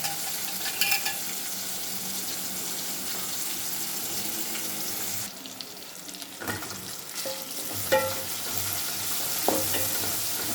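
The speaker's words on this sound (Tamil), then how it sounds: "வெங்காயம், தக்காளி எல்லாம் போட்டாச்சு. 2 நிமிஷம் வேகட்டும்." Onion and tomato frying in a pan with tamarind water poured in, for Thanjavur stingray and raw mango kuzhambu: a steady close sizzle that shifts partway through, with occasional utensil clinks.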